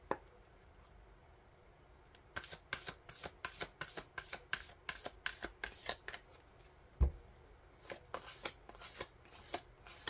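Oracle cards being shuffled by hand during a tarot reading. There is a run of quick, crisp riffling bursts, a short pause, then another series of shuffles, close and fairly quiet with no voice over them.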